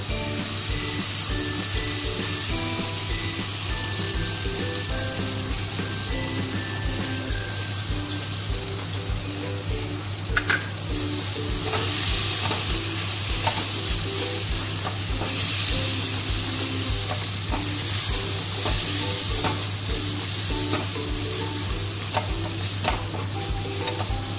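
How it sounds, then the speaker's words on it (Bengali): Ground chana dal paste sizzles and fries in a pan while being stirred, a steady close crackle with rhythmic scraping strokes throughout, no voices. "এইবার এই ছোলার ডাল বাটাটা এর মধ্যে দিয়ে দিলাম।"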